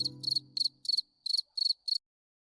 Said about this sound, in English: some silence crickets